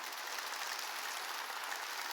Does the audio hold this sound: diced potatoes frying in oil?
no